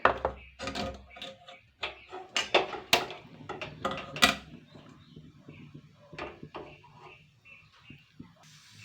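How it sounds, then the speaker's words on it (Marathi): A metal kadhai set down on a kitchen stove while preparing poha: several sharp clanks and scrapes of metal against the burner, spaced irregularly, close and fairly loud, with quieter handling between. "चला आपण कढई चुलीवर ठेवूया"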